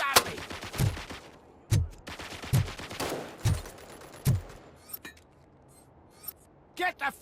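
Gunfire in RoboCop: Rogue City, a run of five loud, evenly spaced booming shots followed by scattered lighter pops and clinks, with voices shouting in between.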